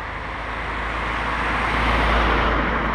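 A car sweeps past on an open road in Normandy or Brittany, a steady broadband rush of tyres and engine that swells slightly toward the end, with no voices over it.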